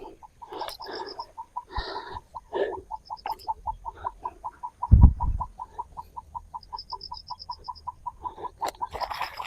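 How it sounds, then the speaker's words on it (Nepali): A bird calls in a Nepali village in spring, a steady series of short, evenly spaced piping notes repeating throughout, with a single dull thump midway. "कसै चरा कराइरहेको छ यसमा तपाईँले सुन्नु सक्नुहुन्थ्यो होला कति मिठो"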